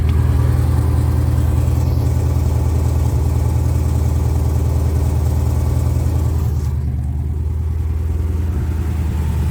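A 1969 Chevy Camaro with an LS engine swap and suspected exhaust leaks idles steadily at a slightly high speed, a loud continuous low rumble that stays even throughout with no talking.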